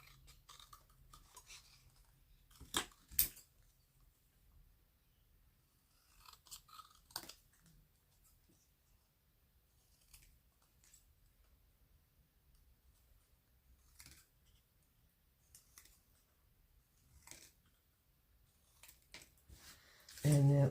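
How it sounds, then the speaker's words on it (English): Scissors snip through paper craft tags in short, scattered bursts of crisp cutting, with long quiet gaps between them in a hushed room. "And then I'll cut out these ones."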